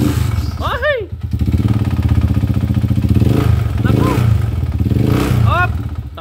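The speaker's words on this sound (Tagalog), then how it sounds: "napakaingay ng makina nito, pakinggan nyo muna mga kabro" Honda TMX125 Alpha motorcycle with a 200cc conversion, running with a loud, noisy engine at a rough, rapid idle with clattering pulses close by, while someone shouts briefly over it.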